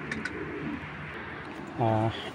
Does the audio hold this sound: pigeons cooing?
yes